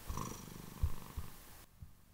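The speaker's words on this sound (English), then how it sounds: "I hope you don't mind the purring." A domestic cat sits on a person and purrs up close, a soft, steady low rumble with rhythmic pulses.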